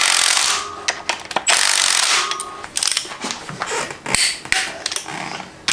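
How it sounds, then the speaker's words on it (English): An impact wrench rattles in loud, repeated bursts while running bolts on a 7.3 Powerstroke engine being rebuilt for a 4x4 Ford E-350 Econoline van. Short broken hammering runs stand alone, close to the microphone. "I don't have this impact set hard enough where it's actually gonna tighten anything down too much"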